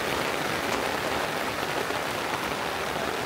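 Heavy rain falls during a storm, a steady, loud, dense hiss of drops pouring without pause.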